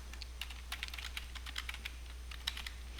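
Rapid typing on a computer keyboard, a steady run of light clicking keystrokes close to the mic over a low constant hum, with no voices.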